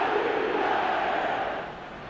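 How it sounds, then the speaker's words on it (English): A stadium crowd in an eFootball match roars steadily as a broad, loud wash of cheering that eases off slightly toward the end. "Now the crowd are demanding that they just finish this off"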